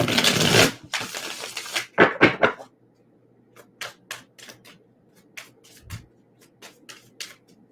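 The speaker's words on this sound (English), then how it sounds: "Give me a second to shuffle." Brisk riffling and sliding of tarot cards, then a series of light, separate snaps and taps spaced out over a quiet background.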